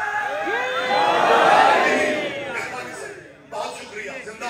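A large congregation at a Muharram majlis in an imambargah roars back in unison to a religious slogan, a loud sustained shout that swells, fades, then rises again briefly.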